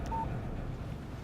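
A short electronic alert tone on a phone in the video game Alan Wake, one brief steady beep standing out over a low background hum.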